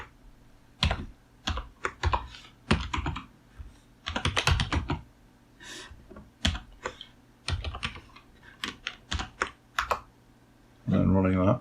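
A small BASIC program is typed on a Spectrum Next keyboard in the style of a BBC Micro, with irregular bursts of close key clicks and pauses between them, ending in a short buzzy electronic tone.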